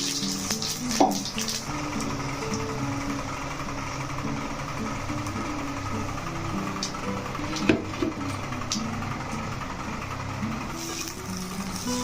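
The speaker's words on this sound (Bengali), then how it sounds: "এই গোটা জিরেটাকে ফোড়নেতে দিয়ে দিচ্ছি।" Whole cumin seeds sizzle in hot oil as a tempering for a Bengali home dish, a steady soft crackle and hiss with a few sharper pops, close and fairly quiet, no talking.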